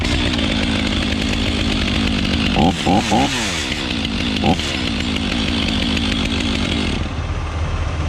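A freshly started chainsaw runs steadily and loudly close by, its engine droning continuously with a few brief revving blips partway through.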